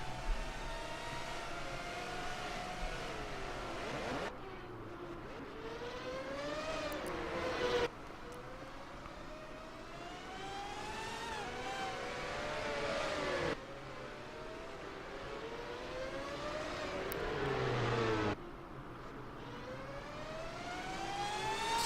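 Race cars screaming past in a racing video game set at the Firestone Grand Prix of St. Petersburg, engine notes rising and falling in repeated fly-bys with sharp shifts, moderately loud with a steady background roar.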